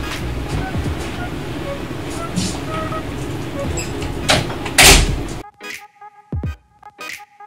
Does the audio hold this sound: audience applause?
no